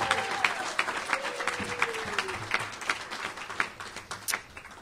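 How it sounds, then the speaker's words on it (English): An audience at the 2016 Pace Athletics Hall of Fame dinner and awards ceremony applauds an inductee, sustained clapping from many hands in a large room, with a faint voice briefly underneath. "Please give a round of applause for Rich Johnson, Hall of Fame, class of 2016."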